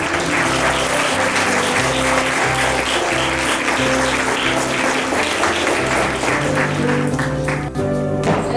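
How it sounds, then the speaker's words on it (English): Audience clapping for children at a community Christmas fiesta rises over loud background music with sustained tones, the applause steady and broad throughout before the music shifts near the end. "Give a round of applause for the kids."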